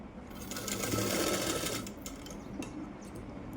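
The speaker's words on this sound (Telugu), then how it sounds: "పావించు మార్జిన్తో ఒక స్టిచ్ వేయాలి" A sewing machine stitches a hook belt for a blouse, running in a steady, close whir that peaks early and then eases off into a quieter, uneven hum, with no talking.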